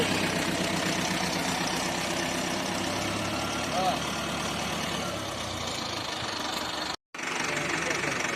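A tractor sowing golden peas in a farm field runs with a steady, continuous engine drone close by, briefly cutting out near the end before resuming.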